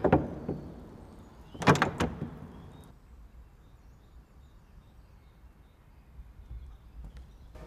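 Metal latch handle from a castle door, dropped for a sound effect. There are two sharp metallic clanks, the second louder, each followed by a long bright ringing that dies away into a quiet, roomy silence.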